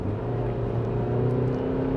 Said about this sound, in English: you just get that flare of revs